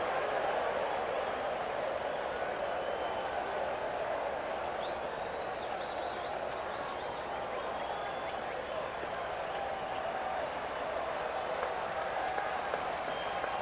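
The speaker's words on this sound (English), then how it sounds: "Even the crowd reacted to that one." Baseball stadium crowd at a Mets versus Giants game in 1990 murmuring and stirring in reaction to an inside pitch, a broad steady roar of distant voices with a whistle rising briefly above.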